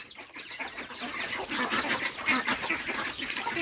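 Ducks and chickens on a Thai farm cluck and quack in a busy, overlapping chorus, close and fairly loud, with no talk over them.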